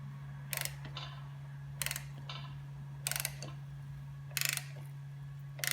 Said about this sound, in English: Chris, can I get you to demo the spanner on the crank